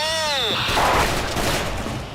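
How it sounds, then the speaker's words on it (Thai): Sustained gunfire in the online shooter Special Force, loud and close, with a rising electronic whine at the start giving way to dense, continuous crackling bursts of shots. "เฮ้ยใครยิงวะ"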